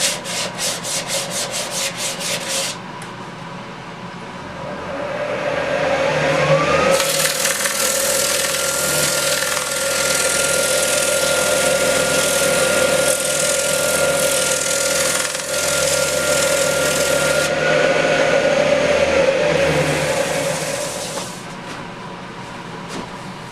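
Sandpaper at 150 grit rubs steadily against an ambrosia maple bowl spinning on a lathe, a loud continuous abrasive hiss over the motor's hum that runs almost without a break after a brief quieter start.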